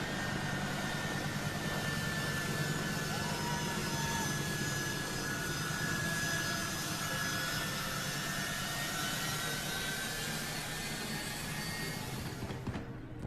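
C-17 military jet aircraft taking off at an airport in Afghanistan, a loud, steady roar of jet engines with a whining tone that holds for the whole stretch before dropping off right at the end.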